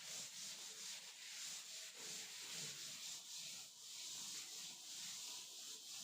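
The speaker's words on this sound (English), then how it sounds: "I'll rub off the questions." Steady rubbing of a duster across a classroom board to wipe off written maths questions, a soft continuous scrubbing hiss with slight rhythmic strokes, close and moderately loud, no voices.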